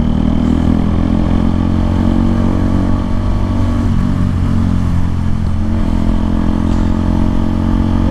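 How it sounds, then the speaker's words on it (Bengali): A motorcycle fitted with a newly installed, very loud exhaust runs close by, giving a continuous deep droning engine rumble with little variation over the whole stretch and no talking. "বাইকের এক্সজস্টের সাউন্ড শুনতে পাইতেছেন কি না, বাট প্রচুর লাউড, অনেক লাউড সাউন্ড আমার বাইকের এখন আপাতত।"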